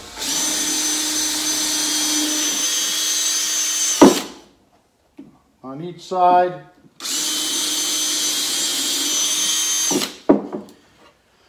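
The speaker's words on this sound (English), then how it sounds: "let's drill a couple of pre-drill holes here and here" A power drill bores into wood in two long loud whining bursts, each several seconds, separated by a short spoken remark.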